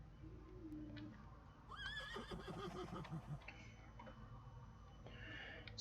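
Horse whinnies loudly in TSG, a rising-then-falling neigh near the middle of the stretch over a steady game ambience, with fainter horse calls and hoof clicks around it.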